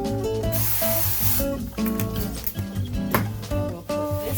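Cooking spray hisses from a can as a hot pan is greased for a stromboli, several short bursts heard close up over musical background.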